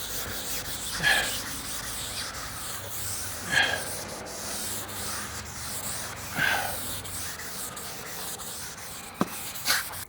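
A long sanding block fitted with Velcro-backed 320 grit paper strokes across a car body panel in repeated slow passes, each scrape rising and fading in a steady rhythm, close and alone.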